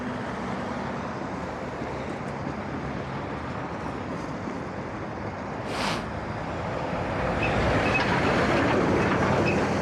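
A train rolls past at a steady distance, a broad continuous rumble that swells slightly louder toward the end, with no voices.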